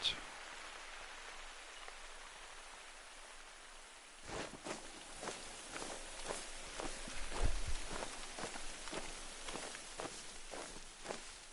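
Steady patter of rain on a surface in the video game theHunter, Layton Lake, with irregular footstep-like thuds and rustles in the second half, fairly quiet throughout.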